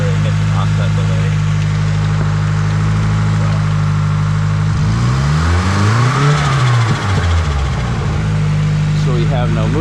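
Nissan S13 car engine fitted with a Link ECU, idling loudly and close, then revving up and dropping back in a single rise and fall before settling into a steady idle again; a voice is heard speaking over it.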